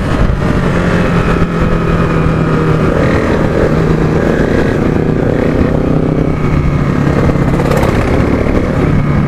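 KTM RC 390 BS3 motorcycle ridden fast, a loud continuous engine roar with wind rush filling the whole stretch, steady and close with no pauses.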